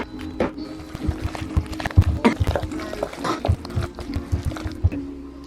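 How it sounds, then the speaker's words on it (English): Chopped walnuts are folded into thick carrot cake batter, making wet, squelching, slapping sounds in an irregular rhythm, close and fairly loud. "and then I will fold in the walnuts"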